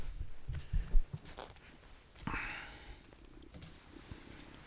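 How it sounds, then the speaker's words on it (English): A soft, low rumbling purr continues close by, with a few louder thumps and a brief rustle partway through. "you can probably hear her purring away"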